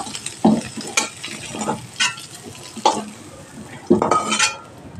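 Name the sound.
transferring fried cauliflower into a pot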